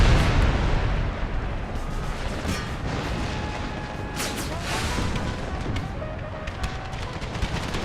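Heavy booming cannon fire, including Whitworth cannons, rolls continuously in a dense video game recreation of the Battle of Gettysburg, repeated blasts layered over a constant rumble.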